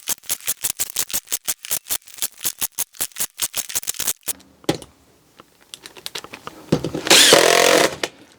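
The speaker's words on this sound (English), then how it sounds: "Now it's just a matter of screwing in all of these." A power drill drives screws into the mounts for glass jar lids in a workshop, with a long run of rapid, loud, close pulsing bursts, a pause, then a sustained high-pitched whir near the end.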